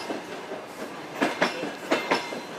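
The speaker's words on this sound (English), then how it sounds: "The rumble of the tracks carrying her father to the front line" A passenger train heading east toward the front line in Ukraine rumbles along the tracks, with a steady low roll and a few sharp rhythmic wheel clacks at moderate distance, and no voices.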